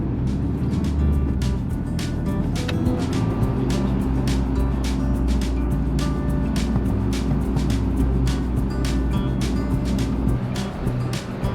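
A car drives from Split Airport toward Split, Croatia. A steady low road rumble and engine drone run throughout, with faint bumps and rattles on top and no clear talk.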